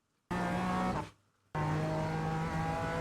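BMW M4 G82 GT4 race car in iRacing at Circuit Zolder, its engine note loud and steady under hard throttle, cutting briefly during a gear change before surging back and holding a strong droning pull.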